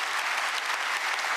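Steady, dense audience applause at a Korean government policy briefing event, a continuous wash of many hands clapping with no gaps and no talk over it.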